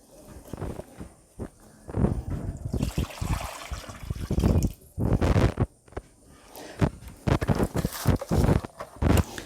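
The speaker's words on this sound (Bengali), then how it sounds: "এরপর এটাকে আমি ভালোভাবে জল দিয়ে দিয়ে এটাকে আমি ভর্তি করে নিচ্ছি" Water from a rooftop-garden watering session is poured into a plant pot to fill the soil, coming in irregular splashing bursts and gurgles with short pauses between pours.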